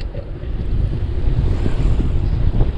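Strong wind buffets the microphone at Sabang Beach in Baler, Aurora, during a bike ride, a loud continuous rumbling roar with surf-like wash and no voices.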